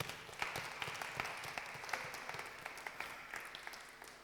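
A church congregation at a French-language sermon bursts into steady, sustained applause, many hands clapping at a moderate distance with no voices over it.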